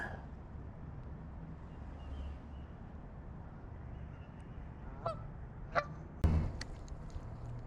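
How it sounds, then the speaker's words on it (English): A goose honks a few times from nearby beside a winter creek, with short sharp calls near the end over a steady background of running water. "Got this goose coming right up on me like a creep."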